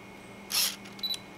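Canon 50mm f/1.8 lens autofocus motor gives two short buzzy whirs, a louder one then a briefer, fainter one, close up against a quiet room with no talking.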